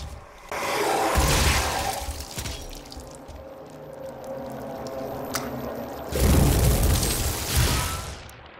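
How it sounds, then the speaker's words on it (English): A barrel explodes when shot in the video game Doom, a loud booming blast followed by a long rumbling decay, with a second heavy burst of explosions toward the end. "we're going to shoot that barrel"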